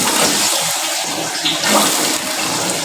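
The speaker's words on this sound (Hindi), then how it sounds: "1 लीटर चावल है तो इसके लिए मैंने यहाँ पर 2 लीटर पानी इसमें शामिल करना है।" Water pours steadily from a half-kilo glass into a cooking pot to boil for rice, a loud, continuous splashing gush with no talking.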